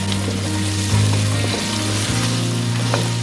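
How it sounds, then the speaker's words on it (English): Quartered brown onions and chopped carrots fry in a pot for a beef Guinness stew, giving a steady close sizzle over a constant low hum, with no talking. "now we're going to fry off our vegetables"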